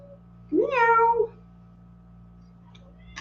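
A pet cat gives one long, clear, close meow in a quiet kitchen during party food prep, followed by near silence and a brief start of another sound at the end.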